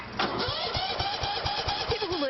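A tractor engine cranks and sputters with a rapid rhythmic chugging, turning over repeatedly as it tries to catch, heard close up.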